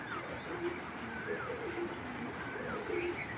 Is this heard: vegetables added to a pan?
no